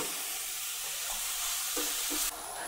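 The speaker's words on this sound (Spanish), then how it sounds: "Cocinamos los champiñones unos 5-10 minutitos, sin olvidar de mezclar a fuego bajito." Mushrooms fry gently over low heat in a pan, a soft continuous sizzle with a few scraping stirs of a utensil near the end, close and moderately quiet.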